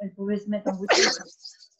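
A person talks briefly, then lets out a sharp, close sneeze that trails off into a short breathy tail.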